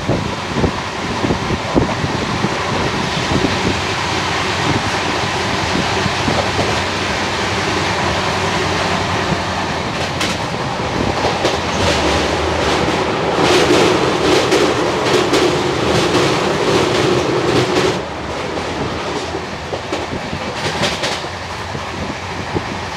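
Rajdhani Express train running between New Delhi and Kota, heard from on board as a loud, steady rumble with rhythmic clickety-clack of the wheels and rushing wind that swells partway through.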